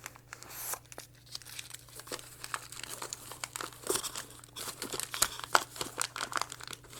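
Boxes of Wolf 7.62x39 hollow point rifle ammunition being unwrapped from biodegradable paper, with close, irregular crinkling and tearing of paper in quick bursts over a faint steady hum.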